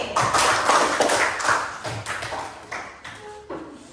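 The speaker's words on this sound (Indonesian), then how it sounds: "Tepuk tangan untuk Rivaldi." Students in a classroom give a brief round of applause, scattered uneven claps from a small group that start fairly strong and thin out over a few seconds, with faint background murmurs.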